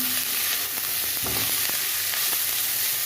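Small mola fish fry with onions in a pan, making a steady, even sizzle that fills the whole moment, with a few soft clicks from stirring partway through.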